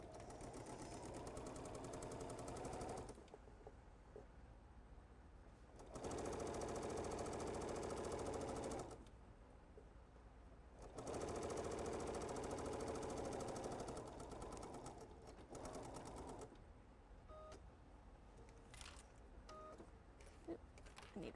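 A sewing machine stitches a stuffed pillow form into a bench project in several bursts of a few seconds each, with quiet pauses between runs and some light clicks and handling near the end.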